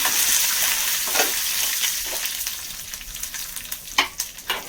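Curry leaves sizzle in hot oil as they are fried and stirred for a rice curry, giving a steady close crackle with a few sharper pops from the spoon near the end.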